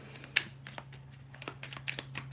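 Tarot cards being shuffled during a live card reading, a faint run of soft riffling flicks and taps with a few sharper snaps, close and quiet, with no talking.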